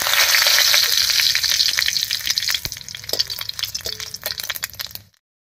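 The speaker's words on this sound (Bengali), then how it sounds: "তেল গরম হয়ে গেছে, তেলের মধ্যে দেব 1 চামচ গোটা জিরা" Whole cumin seeds and two bay leaves fry in hot mustard oil in a kadai, giving a loud, crackling sizzle with small clinks from stirring before it cuts off abruptly.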